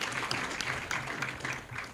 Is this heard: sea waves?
no